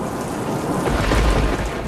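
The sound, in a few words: thunderstorm with heavy rain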